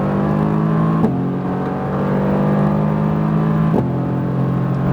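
A Mercedes-AMG GT R sports car's engine drones steadily as it accelerates on a race track, with brief breaks at gear changes and no one talking.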